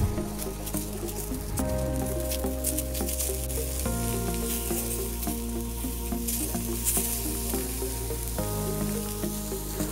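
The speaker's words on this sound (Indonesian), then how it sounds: "Bakar kentang sedikit agak kering. Jangan lupa sambil dibolak-balik ya." Potato pieces grill in a pan and are turned over, keeping up a continuous sizzle with small crackles while background music plays underneath.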